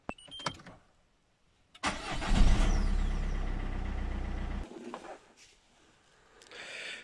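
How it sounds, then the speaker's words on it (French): A car engine is revved from outside the vehicle for about three seconds during a battery and alternator test, rising to a steady loud drone before dropping back to idle, with a few clicks before and after. "je vais accélérer de l'extérieur"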